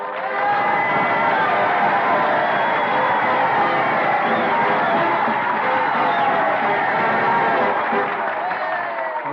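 A crowd at Gettysburg cheering and applauding after a two-hour oration in an old-time radio drama, a dense and sustained roar of many voices and clapping that holds steady throughout.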